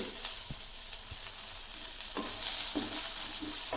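Carrot chutney ingredients with coconut sautéing in a pan, a constant hiss and sizzle with a few soft scrapes of stirring, close and steady with no talking.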